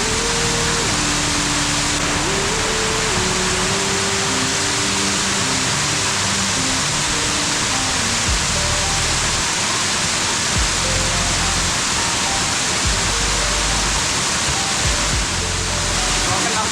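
Loud, constant roar of a hidden waterfall near Ranjanpada village, Alibag, crashing nearby, a dense wash of rushing water with low rumbling underneath, steady for the whole stretch.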